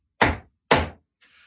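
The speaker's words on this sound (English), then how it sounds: "My simple idea, two taps with your foot" Two distinct foot taps in body percussion, sharp close thumps about half a second apart, followed by a faint soft rustle.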